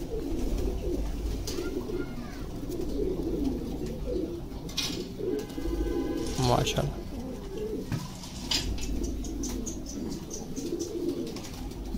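Pigeons coo repeatedly nearby, soft throaty calls under someone speaking, with some chirps and background noise.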